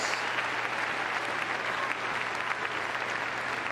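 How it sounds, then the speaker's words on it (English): Steady, dense applause from an audience at the Crufts 2014 dog show, honouring a Pets as Therapy charity with its therapy dogs and owners, filling the hall evenly without pause for the whole stretch. "give them a huge round of applause for this wonderful charity"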